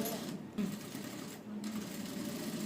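An electric sewing machine stitching a padded princess-cut blouse, a steady whirring run broken by two brief pauses, under someone speaking.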